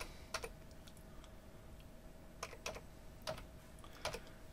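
Typing a file name on a computer keyboard: a few quiet, scattered clusters of key clicks in short bursts against a near-silent room, with no talking.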